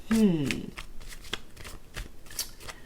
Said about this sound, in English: let me give a good shuffle here